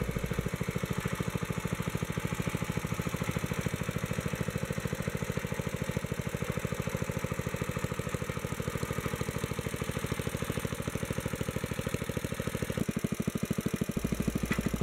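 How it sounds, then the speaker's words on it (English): Wheel Horse 704 garden tractor engine idling steadily with a slight rod knock, a close, loud, continuous rhythmic chug lasting throughout with no talking. "except for the slight rod knock at idle"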